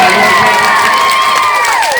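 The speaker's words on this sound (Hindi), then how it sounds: "जोरदार तालियां बजाकर" A crowd claps and cheers loudly for a yoga demonstration, with continuous applause and excited shouting, including high-pitched voices, for the whole two seconds.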